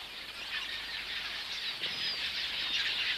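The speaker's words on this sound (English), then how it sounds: "These flocks, in fact, are not quelea at all, they're chestnut weavers." A flock of chestnut weavers flies past with a continuous whirring rush of many flapping wings, steady and fairly close, with a few faint chirps.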